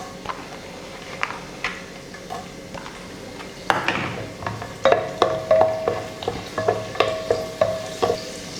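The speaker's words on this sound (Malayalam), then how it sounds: "ഇനി നമുക്ക് ഇതിനകത്തോട്ട് കിസ്മിസ് ഇട്ട് കൊടുക്കാം." Raisins fry with cashews in a pressure cooker for chicken biryani, a steady close sizzle with a run of rhythmic spoon clinks and scrapes against the metal in the second half.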